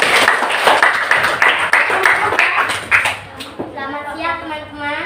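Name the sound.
group applauding, clapping hands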